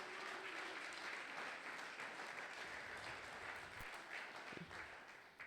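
A church congregation at a Sunday praise and thanksgiving service applauding the Lord, dense sustained clapping from a large crowd that fills the room and tapers slightly near the end, with faint voices mixed in.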